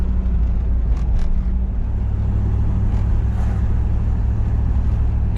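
Steady, loud engine rumble and road noise from a Chevrolet Camaro cruising down a pothole-marked city street in New Cumberland, Pennsylvania, continuous throughout with no talk.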